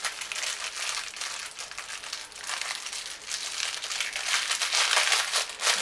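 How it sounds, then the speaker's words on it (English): Plastic packaging from a Temu shopping haul crinkles and rustles continuously up close, bursts of crackling growing louder toward the end, without speech. "Again, I apologize for the crinkling."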